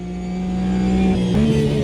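A racing car's 3.8 liter flat-six engine in the game AMS2 hums steadily and rises slightly in pitch, then dips briefly as if shifting, close and alone.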